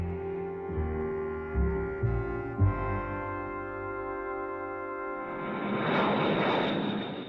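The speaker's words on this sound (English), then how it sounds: "B-52s loaded with hydrogen bombs were ready for war" B-52 bomber engines, from the Cold War era, drone in a low, tonal hum. After about five seconds the sound swells into a louder, broad roar that carries to the end.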